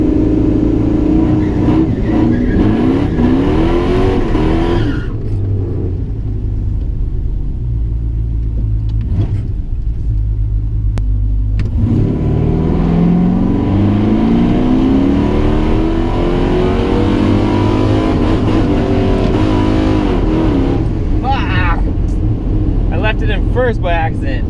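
A Dodge Dakota R/T accelerates down a drag strip, its engine roaring loudly and rising in pitch through the gears, with a brief lull mid-run, while people talk over it.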